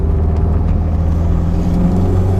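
Toyota MR2 Turbo with an S54 engine driving through turns at moderate speed in third gear, a steady loud engine drone and road rumble with no revving spikes.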